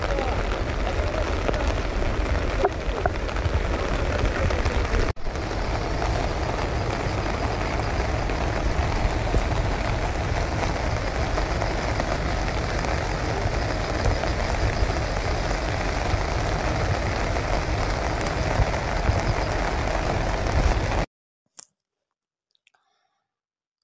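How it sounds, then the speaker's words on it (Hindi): Heavy monsoon rain pours steadily across a mining and plant area of Sundargarh district, a dense, even broadband wash that stays loud and constant for about twenty seconds before cutting off abruptly. "गला 3 दिन हैला सुंदरगढ़ जिला ने लगी रही छे लगाण वर्षा"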